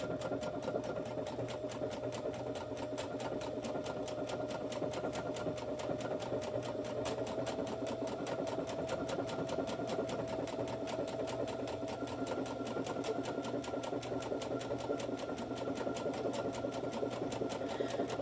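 A Brother SE 2000 sewing machine stitching at a higher speed, an even, rapid mechanical clatter of the needle with a steady motor hum, continuous and close throughout.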